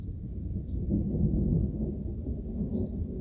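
Low, rolling thunder from a strong nearby storm in Alsace rumbles steadily for a few seconds, deep and sustained, with no voices over it.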